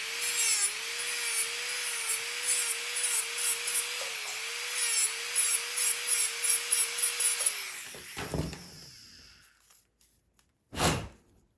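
A dental disc trims a temporary tooth, giving a steady, slightly wavering whir with a gritty grinding edge for about eight seconds, then cutting out into a few brief scrapes and one sharp final burst.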